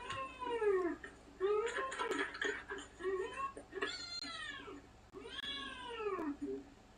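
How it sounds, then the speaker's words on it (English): A cat meows demandingly, several loud, drawn-out, wailing calls in quick succession, close by and with no talking. "That's a cat."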